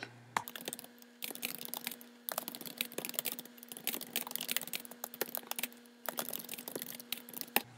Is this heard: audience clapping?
no